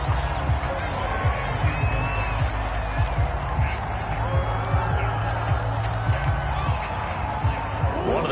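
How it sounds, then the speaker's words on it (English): A stadium crowd roars and cheers in an American football video game, a loud, continuous wash of noise with a commentator talking over it. "the crowd getting into it as we come up on a big third down"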